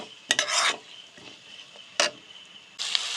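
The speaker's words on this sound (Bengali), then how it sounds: "মিশিয়ে নিয়ে একটু ভেজে নেব" Spices with Kashmiri chili powder stirred and fried in a pan for tarka dal, a few bright scraping strokes of a spoon against the pan over a faint steady sizzle, close by with no talking.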